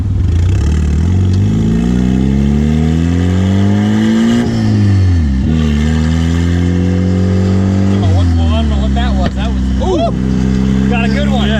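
Mazda Miata engine revving hard under turbo boost, its pitch climbing steadily through repeated pulls, then dropping and climbing again, loud and close, with brief rising whistles near the end.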